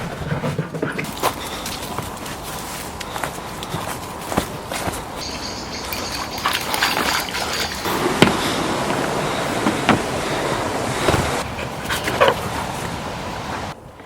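Several dogs out on an evening walk as dusk falls, with yips, whimpers and occasional barks over steady footsteps and rustling outdoor noise, fairly close and continuous throughout.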